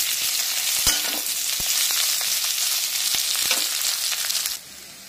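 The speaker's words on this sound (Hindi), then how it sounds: "अब हम कॉर्न को हम डाल दे रहे हैं। ऐसे हम लो मीडियम फ्लेम पर हम फ्राई करेंगे।" Corn kernels frying in hot oil over a low-medium gas flame give a loud, steady sizzle with scattered sharp pops and crackles, heard alone without speech, dropping off abruptly near the end.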